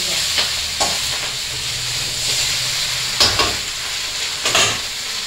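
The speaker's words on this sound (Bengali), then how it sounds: "আমি একবারে কষিয়ে দিলাম মাছের মাথাগুলো" Rohu fish heads fry and are stirred in a pan, a loud continuous sizzle broken by several sharp scraping strokes of the spatula.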